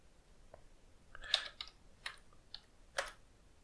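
A terminal command being typed on a computer keyboard: a handful of separate keystroke clicks at an uneven pace, close and fairly quiet, with no talking.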